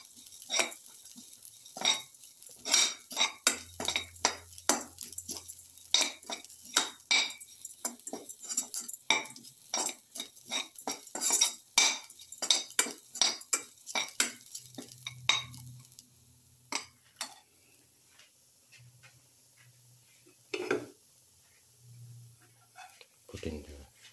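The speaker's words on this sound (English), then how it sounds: "keep on sauteing. Thoroughly sauteing." A metal spoon scrapes and clinks against a pan while fish brindleberry stew is sautéed, a busy run of sharp close taps and stirring knocks that thins out in the latter half, with faint sizzling and occasional low hum.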